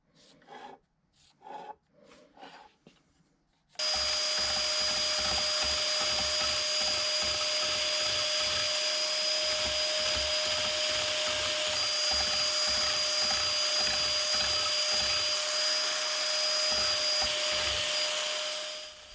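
A Biax power scraper chatters rapidly against the metal of a 24-inch camelback straight edge, a loud continuous rasping buzz with a rhythmic pulse that runs for about fifteen seconds after a few short scrapes at the start.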